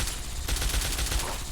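Rapid gunfire in Fallout 3, a dense, loud rattle of overlapping shots that grows busier after a brief softer start.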